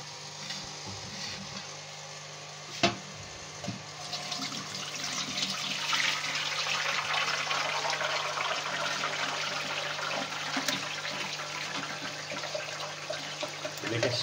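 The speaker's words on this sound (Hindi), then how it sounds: "अब इस छाननी में मैं इस यखनी को भी मैं निकाल लूँगा।" Meat stock (yakhni) pours through a sieve, a steady close splashing and trickling that starts after a sharp knock and keeps flowing without speech.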